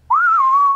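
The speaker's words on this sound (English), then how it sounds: "Give a little whistle." A person gives a single short, clear whistle, rising slightly and then holding a steady pitch, close and loud with no other sound.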